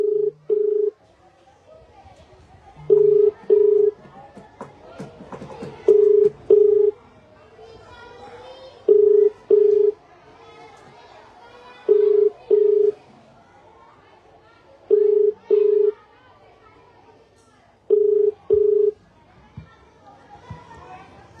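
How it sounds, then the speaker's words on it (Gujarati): An outgoing phone call rings back unanswered, with paired ringback tones repeating evenly about every three seconds over faint room noise and distant children's voices. "નહીં ફોન ઉઠાવતા નહીં, બીજી વાર ટ્રાય કરું છું"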